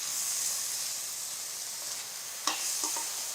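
Rice sizzles and hisses steadily in a pan on low heat for a sweet pulao while saffron-infused milk is poured in, with a few sharper stirring scrapes near the end.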